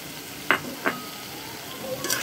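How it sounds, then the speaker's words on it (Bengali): Chicken hearts with salt being stir-fried in a pan, with a soft background sizzle broken by a few quiet clinks and scrapes of a spoon against the pan. "সুন্দর করে কষিয়ে নেব।"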